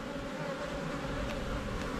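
Bees fly around a beekeeper opening a production hive, making a steady, close buzzing drone that holds evenly for two seconds with no voices.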